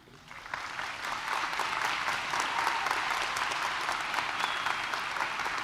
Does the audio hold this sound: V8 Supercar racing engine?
no